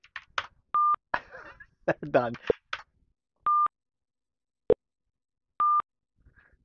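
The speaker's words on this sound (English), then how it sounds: "Those noises you hear is the calls dropping because the phone's been disconnected." Short, identical electronic tones repeat at intervals on a disconnected scam call line, with a brief click between them and bits of nearby speech in between.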